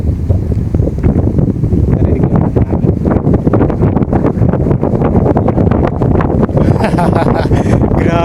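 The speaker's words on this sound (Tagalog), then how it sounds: "Grabe yung hangin, oh." Strong wind roars and buffets the microphone continuously outdoors along a high mountain road in farm country, loud and close throughout.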